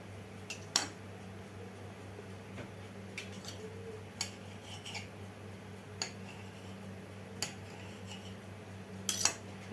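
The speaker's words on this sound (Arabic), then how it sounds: "هنجيب بردك السكينه بتاعتنا، هنعمل ايه كل 4 صوابع هنقطع كده" A knife cuts through layered, flaky Egyptian feteer dough in strips a few fingers wide, making scattered sharp taps against the board over a steady low hum, with no talking.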